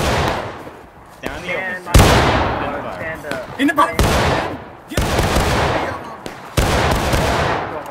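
Musket volleys from independent fire in War of Rights, a sequence of loud sharp gunshot cracks at irregular intervals with echoing tails, someone shouting between them.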